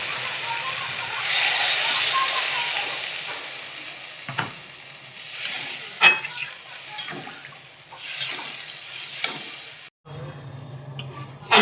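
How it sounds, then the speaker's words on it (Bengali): Water hits a hot pan of chicken and potato curry and sets off loud bursts of hissing sizzle that swell and fade, with softer bubbling and stirring between them and a voice speaking at times. "এবার আমি সিদ্ধের জন্য অল্প একটু জল দিয়ে দেব।"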